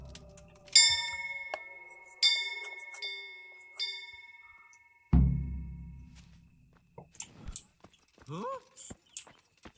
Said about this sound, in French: Je pense qu'il l'a sonné 3 fois.